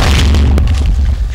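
Loud video game explosion from an explosive diamond trap, a deep booming blast filling the whole moment with a sharp crack partway through.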